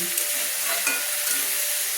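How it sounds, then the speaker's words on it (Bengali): Steamed cabbage frying over a medium flame with onion, garlic, chilli and tomato gives a short, even hiss of sizzling in the pan, steady and fairly close, with no voices. "বাঁধাকপি ভাপানোর পর পেঁয়াজ রসুন লঙ্কা দিয়ে সব কিছু দিয়ে টমেটো দিয়ে আমি প্রায় 3 থেকে 4 মিনিট মাঝারি ফ্লেমে ভেজে নিচ্ছি।"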